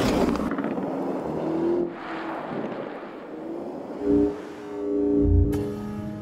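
Lamborghini Urus SUV driving on the road, a loud engine roar and road rumble mixed with rushing wind, swelling and easing as the car accelerates and the gears change.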